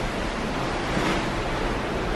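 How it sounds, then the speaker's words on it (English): Ocean waves break in open water beside the Disney Dream cruise ship as it approaches Nassau, heard from the deck as a steady, loud, wind-blown roar of surf with no voices. "That's some pretty good waves breaking over there"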